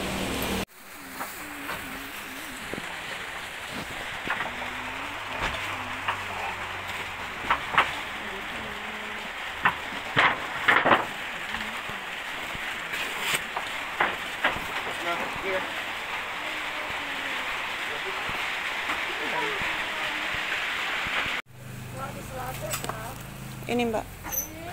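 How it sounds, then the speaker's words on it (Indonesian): Heavy rain pours steadily in a dense hiss for over twenty seconds, with occasional louder knocks and splashes, then cuts off abruptly near the end. People talk intermittently over it. "Ternyata di sini hujannya deras"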